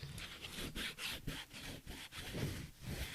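Repeated rough rubbing strokes along the edge of a leather strap on a replica title belt, a scratchy back-and-forth rasp in quick irregular rhythm, close and fairly quiet.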